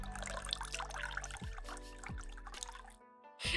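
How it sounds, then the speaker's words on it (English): Corn tea trickling and pouring into a cup up close, a steady liquid dribble that cuts off near the end before a brief sound, with no voices. "I actually purposely didn't pour my tea yet so that you guys can hear it"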